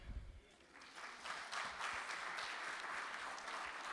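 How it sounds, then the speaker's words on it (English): Audience applause following a postgraduate research presentation at a university science and agriculture research day, a steady wash of many hands clapping that swells after a quiet start and holds loud to the end. "Please clap hands for Calvin, please"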